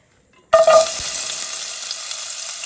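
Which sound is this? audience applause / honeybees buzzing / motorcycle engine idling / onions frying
onions frying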